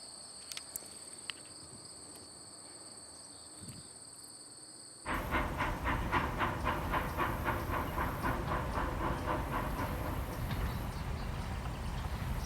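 Quiet chirping insects give way to the loud, rhythmic clatter and rumble of a moving freight train led by CN locomotive 5700, its wheels thumping steadily over the rails.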